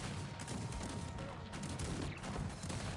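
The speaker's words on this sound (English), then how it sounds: "while the cannons shoot at them." Cannon fire and battle noise from the strategy game Cossacks 3, a dense, continuous barrage of booms and crackling shots with no clear gaps, fairly quiet overall.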